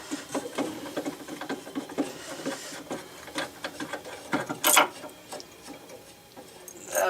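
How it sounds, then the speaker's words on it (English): Screws are unscrewed during repair of a Rock-ola 443 jukebox, giving a run of small, close, irregular ratcheting clicks and metallic ticks throughout. "Now the last thing I just have to do is unscrew all these."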